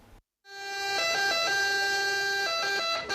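An ambulance siren wails at a flash mob protest over public healthcare, a loud sustained two-tone electronic siren alternating pitch steadily after a brief silence.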